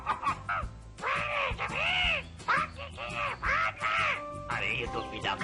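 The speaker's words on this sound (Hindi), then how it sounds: "अरे ये तो मीना का तोता है," Cartoon parrot squawking in a series of loud, harsh, repeated calls, each rising and falling, heard close with no talk over it.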